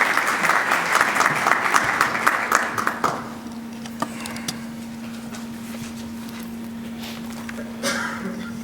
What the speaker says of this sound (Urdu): سو ہم آپ کی بھرپور تالیوں میں ان کو دعوت